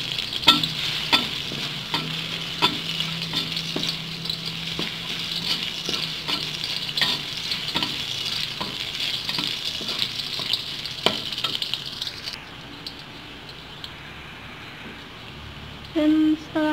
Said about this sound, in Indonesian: Dan kita tumis bawang putihnya sampai harum.